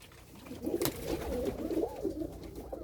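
Tumbler pigeons coo inside a coop, giving soft, rolling calls that carry close and continuous with no talk over them.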